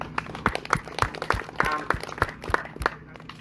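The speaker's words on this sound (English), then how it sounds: "let's give ourselves a round of applause." A small group applauds at a Victorian state race day, giving scattered, uneven claps with distinct individual hand strikes rather than a dense roar, close by and moderately loud.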